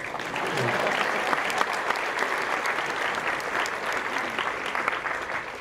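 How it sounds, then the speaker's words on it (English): Guests at a wedding reception give steady, sustained applause, a broad even wash of many hands clapping at moderate volume without letup. "Let's give a clapping hand"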